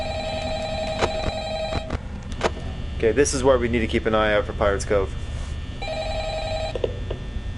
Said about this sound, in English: Again with the ringing right into the voicemail.